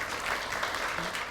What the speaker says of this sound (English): that really deserves applause